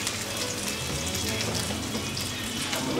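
Prawns dropped into hot garlic-infused olive oil, frying with a loud, steady, hissing sizzle that holds evenly close by throughout, with no voices.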